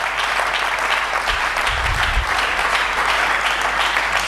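A church congregation claps together in sustained, dense applause that fills the whole stretch at a steady loud level, with no voices standing out above the clapping.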